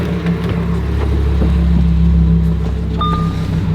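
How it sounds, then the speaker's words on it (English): A car engine turns over and settles into a steady, loud idle rumble close by, with a brief whirring rev and a high tonal chirp near the end. "turn on the car"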